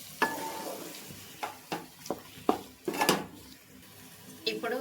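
Masala paste is stirred into vegetables for veg biryani in a pan, with a low sizzle under about a dozen scraping, clinking spoon strokes at an irregular pace, close and clear, and no talking.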